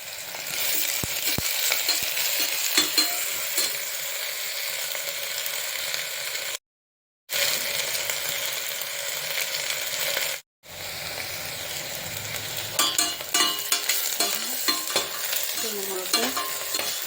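Onions sautéing in a pan for a vegetable pulao, a steady loud sizzle with repeated scraping stirs throughout, briefly cut out twice.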